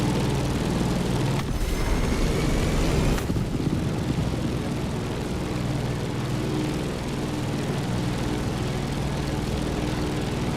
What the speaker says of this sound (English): So we decided to go aerial, vintage, and bold with the Grumman Bearcat F8F.